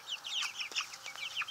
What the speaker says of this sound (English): Here's the meat birds.